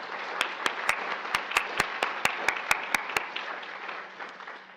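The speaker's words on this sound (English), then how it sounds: "Let's give her a warm round of applause." Audience applause welcomes Dr. Gina Fujikami, a geriatrician, at a health talk on dementia, steady dense clapping with several sharp nearby claps standing out before the sound fades toward the end.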